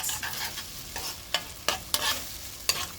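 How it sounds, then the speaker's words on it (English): Bitter gourd (karela) sabji fries over a medium flame while being stirred, a steady close sizzle broken by several sharp spatula scrapes at irregular intervals, with no voices. "keep cooking it on medium flame"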